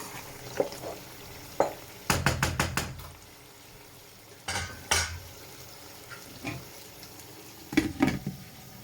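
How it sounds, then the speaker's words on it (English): Protein frying in a pan while cooking Nigerian party jollof rice, heard as a soft background sizzle broken by sharp utensil knocks and scraping stirs against the pan. "So this is my protein that I'm frying."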